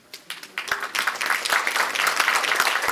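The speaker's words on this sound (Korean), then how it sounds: "김상희 위원장님께 다시 한번 여러분 뜨거운 박수 부탁드리겠습니다" An audience at a joint party meeting on revising the party constitution breaks into applause, starting thinly and quickly swelling into dense, sustained clapping that keeps building to the end.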